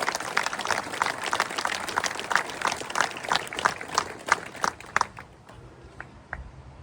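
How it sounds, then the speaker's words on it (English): A crowd at a Dublin republican gathering claps steadily for several seconds before the applause thins out to a few scattered last claps. "Big round of applause."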